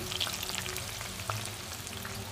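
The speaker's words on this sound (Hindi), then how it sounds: "चिप्स बहुत अच्छी बन रही है ये देखिए चिप्स एकदम फ्राई हो चुकी है" Banana chips frying in oil, a steady bubbling sizzle with scattered crackles, fairly quiet and continuous without talk.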